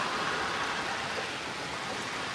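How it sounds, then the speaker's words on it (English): Heavy storm rain pours down outdoors as a dense, steady hiss that fills the whole stretch, with no gaps and no talking. "It's raining all crazy out here."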